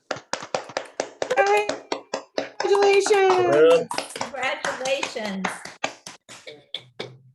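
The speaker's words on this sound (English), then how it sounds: "Can we give them a round of applause?" At a college health and human services honors ceremony, scattered audience claps for honorees sound as sharp, close taps, while voices call out congratulations over the clapping.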